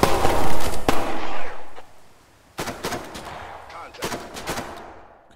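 Gunfire in the tactical shooter game Thunder Tier One, with loud close bursts of automatic fire, then a brief lull before more sharp rapid shots and shorter volleys.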